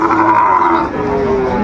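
Sahiwal bull calf lowing at a busy cattle market, one loud, close, drawn-out moo over a constant background of crowd noise.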